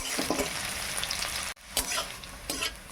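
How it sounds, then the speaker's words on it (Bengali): Fried onion with bay leaves tossed into hot oil in a pan, giving a dense close-up sizzle with a sudden brief drop near the middle, then renewed crackle and stirring clatter, no talk. "পেঁয়াজটা ভাজা হয়ে গেছে তেজপাতা দিয়ে দিলাম"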